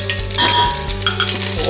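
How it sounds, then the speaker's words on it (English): Olive oil and achiote hiss in a hot pan, a steady close sizzle with faint scraping stirs and a low background hum, no voices. "We're going to add some olive oil, 1 tablespoon of achote"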